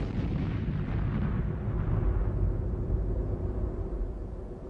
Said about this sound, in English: Launch stand failures with missiles full of volatile propellants led to spectacular explosions never to be forgotten by those who saw them.